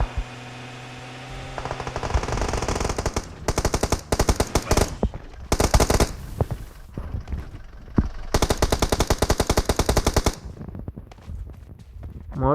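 Rapid bursts of automatic gunfire from a machine gun in a multiplayer battle royale video game, several loud volleys separated by brief pauses, with faint background game sounds.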